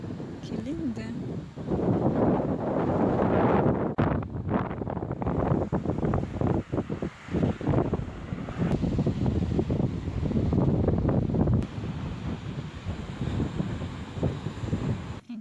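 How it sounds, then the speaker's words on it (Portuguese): Strong, cold seaside wind at Itapemirim buffets the microphone in loud, continuous gusts, with a low roar of surf or water beneath. People talk intermittently through it. "O vento tá demais."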